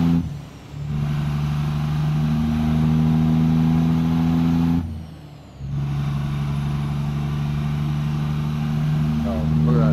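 A new truck's engine of about 550 horsepower pulling along the road, a loud, steady low drone with rising revs, easing off twice in brief dips before building again, heard from inside the cab.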